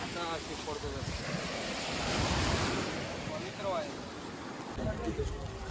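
Sea waves break and wash ashore at Rameshwaram beach, a broad rolling surf roar that swells and eases, with wind buffeting the microphone and people talking over it throughout.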